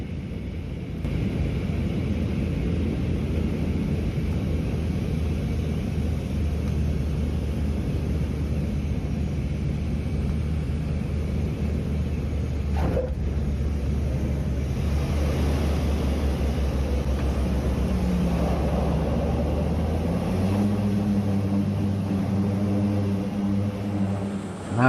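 Steady propeller-aircraft drone in the cabin of a small plane flying over Maho Beach on Sint Maarten toward Saba, loud and continuous throughout with a slight shift in engine tone near the end.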